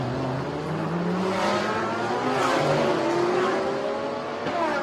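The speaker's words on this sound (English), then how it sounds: "Daniel Bilski piloting right now what looks to be one of a very fast Audi" An Audi GT3 race car drives on a circuit during a live Thailand Super Series race at Bangsaen, its engine note climbing steadily through gears, loud and continuous with a faint passing whine.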